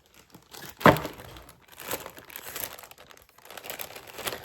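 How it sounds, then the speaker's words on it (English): Close crinkly rustling of packaging while coin purses with metal clasps are handled during market prep, one sharp crackle, then continuous soft crumpling and shuffling. "Excuse the rustling."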